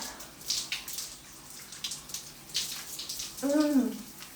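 Warm water in a bathtub sloshes and splashes softly in a series of close, gentle washes, with a brief voiced sound near the end.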